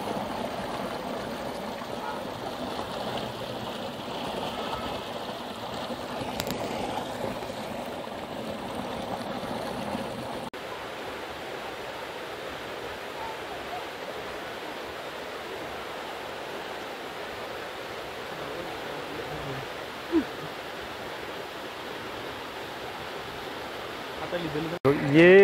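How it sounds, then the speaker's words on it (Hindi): A stream in Pachmarhi flows on toward Bee Falls, making a faint, steady rushing wash throughout, with a couple of small knocks near the end. "तो ये जो सारा पानी है वही एंड में उस तरफ जाके बी फॉल पे जाता है"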